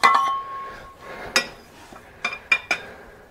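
A breaker bar works a stubborn winch bolt loose on a Caterpillar D4 crawler, giving a ringing metallic clink at the start, then a series of sharp clanks and taps spread through the rest of the moment.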